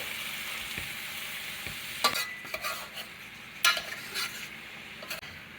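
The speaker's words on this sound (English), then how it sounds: "let that keep browning for a little bit" Ground beef browns in a pot for chilli on an electric stove, giving a steady close sizzle and fry with a few sharper utensil scrapes and clatters against the pot.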